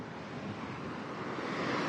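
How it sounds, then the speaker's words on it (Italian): Strong wind blowing outdoors along the seafront in Trieste, a steady, loud broadband roar that swells slightly toward the end, with no voices over it. "C'è un bel vento, fuori."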